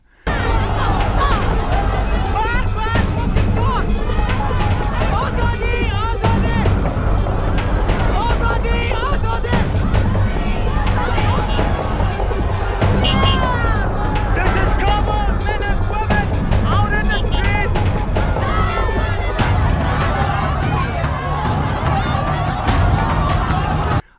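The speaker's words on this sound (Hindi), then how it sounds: "पाकिस्तान के एम्बेसी के बाहर नारे लग रहे हैं, मर्ग बर पाकिस्तान, यानी पाकिस्तान मुर्दाबाद।" Large crowd outside the Pakistan embassy, a dense continuous roar of many voices chanting and shouting slogans, loud and sustained throughout with no pauses.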